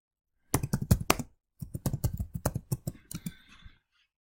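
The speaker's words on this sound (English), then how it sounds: "I've got my search bar here up, type in Google Sheets." Typing on a computer keyboard: two quick bursts of close, crisp key clicks, a short pause between them, then a few softer taps trailing off.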